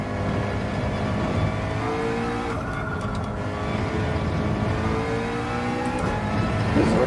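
McLaren race car engine in the racing game Gran Turismo 7, a steady droning hum with gear-shift pitch sweeps, moderately loud and continuous without talk.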